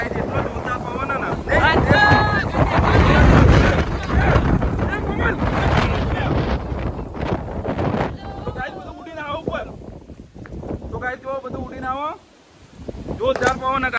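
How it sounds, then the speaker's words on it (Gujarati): Strong gusts of wind buffet the microphone on a rooftop terrace, heavy rumbling roar through the first half easing in the middle, while someone talks over it, with a fresh gust near the end. "એટલો બધો પવન આવ્યો"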